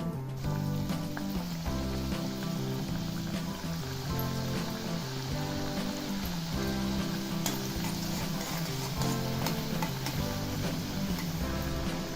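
Wheat flour kapanya sweets fry in hot oil with a dense, steady sizzle and crackle that carries evenly throughout, close and moderately quiet, with no talking.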